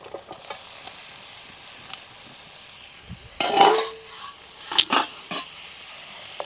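Boiled mutton tipped into a hot pan with turmeric and ginger for a Telangana-style mutton fry, giving a sudden loud burst of sizzling at the midpoint, then spatula stirring and scraping with a second sharp clatter, over a quiet frying hiss.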